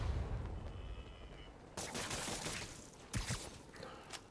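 Gunfire from the Spider-Man video game: a quiet stretch gives way to a sustained burst of broadband shots from about two seconds on, with a couple of louder cracks near the end, moderately loud and without talk.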